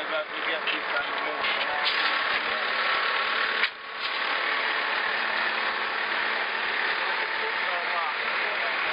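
Backhoe engine running on a work site, a loud, steady mechanical drone held for several seconds with a brief dip partway through, with voices talking over it.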